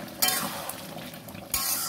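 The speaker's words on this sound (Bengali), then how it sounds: "ভাজা পটলগুলো দিয়ে দিলাম কড়ার মধ্যে। খুব সুন্দর করে কষবো" Fried pointed gourd pieces dropped into a wok of cooking masala: two sharp bursts of sizzling hiss, with soft stirring and frying crackle between them.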